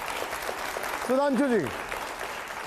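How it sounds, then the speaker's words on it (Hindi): Audience applause rises in a TV debate studio, a steady patter of clapping running beneath someone speaking loudly over it. "तालियां होनी चाहिए पहले इस बार"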